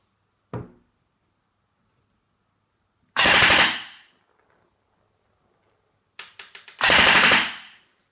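An ASG Scorpion EVO 3 A1 airsoft gun with its stock spring fires on full auto. A single shot is followed by two loud, fast bursts of rapid clattering, with silence between them.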